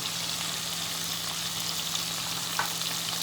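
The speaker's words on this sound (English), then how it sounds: "so it's sauteing on both sides, right?" Pork sears in oil in a pan, an even, close hiss of frying that holds steady, with a faint low hum beneath and one brief clink near the end.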